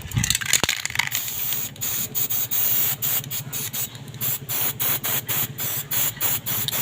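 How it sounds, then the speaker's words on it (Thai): An aerosol can of contact cleaner sprays into a fan switch in a series of short, repeated hissing bursts, fairly loud and close, with brief pauses between them. "จะใส่ได้แล้วครับใส่ สเปรย์ฉีดนะครับเนาะ"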